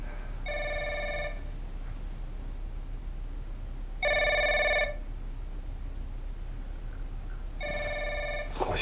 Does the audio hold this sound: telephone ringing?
yes